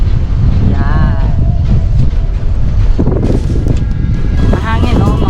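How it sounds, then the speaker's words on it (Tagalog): Strong wind buffets the microphone during a fishing outing beside a hut, a steady loud roar running throughout, with people talking over it at intervals. "Ang sarap ng hangin."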